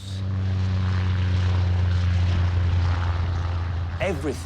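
A 40-year-old biplane drones in flight, its propeller engine giving a steady, loud, low throbbing hum with strong harmonics, and a brief voice cuts in near the end.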